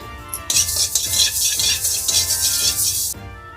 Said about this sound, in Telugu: ఇప్పుడు ముందుగా కడాయిలో మెంతులు, జీలకర్ర 2 తనిగా వేయించుకోవాలా